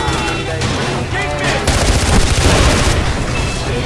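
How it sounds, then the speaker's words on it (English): Sustained automatic gunfire from a gun mounted under a car's dashboard in the Far Cry 4 video game, a loud, dense burst of rapid shots over engine rumble and other game noise. "There's a gun underneath the dashboard!"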